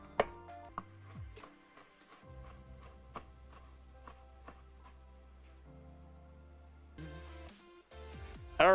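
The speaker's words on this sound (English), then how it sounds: "Let me just chop up our cheeky peppers" A knife chopping peppers on a cutting board, producing a string of crisp, fairly quiet taps at an uneven rhythm over a low kitchen hum.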